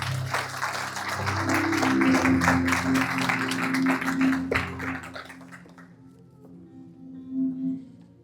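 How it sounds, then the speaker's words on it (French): A church congregation claps loudly for several seconds, the applause swelling then fading into quiet with a brief final burst. "Applaudissons le Seigneur ce matin."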